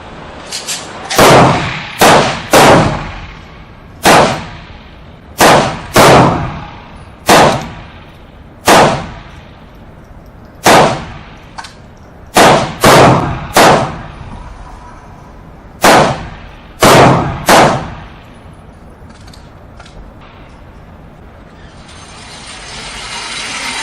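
Walther P22, GSG Firefly, Phoenix Arms PH22 and Ruger .22LR handguns fire at an outdoor range at seven yards, about fifteen sharp, close cracks in uneven bursts and pauses.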